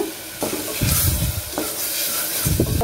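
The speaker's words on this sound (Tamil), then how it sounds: "தக்காளி ஒரு 2 நிமிஷம் நல்லா வதங்கட்டும்" Tomatoes sauté in a pan of masala for a South Indian mutton thanni kulambu, giving a steady hissing sizzle broken by several scraping spatula strokes against the pan.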